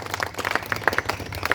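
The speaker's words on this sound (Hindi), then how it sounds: "तालियां बजा दी ग्रुप से।" A group of villagers claps, a short burst of brisk, uneven hand claps at close range with no talk over it.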